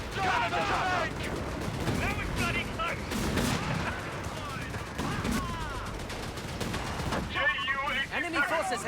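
A Company of Heroes 3 battle at the First Battle of El Alamein rages with continuous loud machine-gun and rifle fire, rapid overlapping shots and distant blasts, while soldiers shout under the din throughout.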